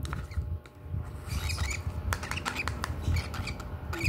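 Baby bird being hand-fed, giving repeated short squawks and begging chirps close by over a steady low background rumble, with no talking.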